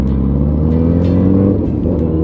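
A Honda NC motorcycle with an aftermarket exhaust rumbles at a steady, loud, low idle or cruise, close by and without voices, with slight variations in engine note.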